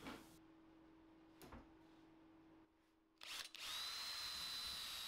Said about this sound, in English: I just use a drill with a countersink bit to put some holes around the outside